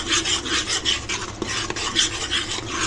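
A spoon rasps and scrapes steadily through thick masala in a pan as chili powder, green chili and salt are mixed in for a Maharashtrian cowpea and potato curry, the close stirring strokes repeating in a fairly even rhythm with no voices.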